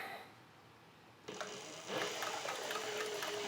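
Sewing machine stitching leather suspenders in a leather shop, a quiet hum that steps up into a steady, continuous whir of stitching, heard close with no talking.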